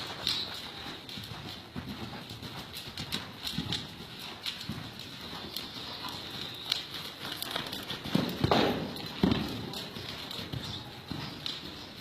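A horse's hooves clip-clop steadily on the ground as it makes turns, the beats fairly close and of moderate loudness, with some scuffing and crackling in between.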